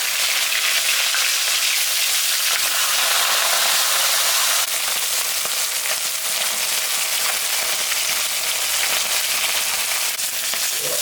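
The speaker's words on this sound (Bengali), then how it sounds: "তেলটা গরম হয়ে গেছে, এখন আমি মাছের মাথাটা ভাজে নিই" A fish head fries in hot oil, giving a steady, loud, bright sizzle that crackles continuously without pause and with no voices.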